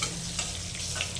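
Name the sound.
black cumin and green chillies frying in oil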